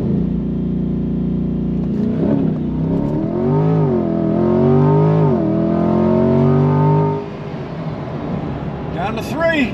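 A Chevrolet C8 Corvette launches from a stop in a 0 to 60 run, its engine note climbing and dipping through the gears in loud, close sweeps before easing off near the end.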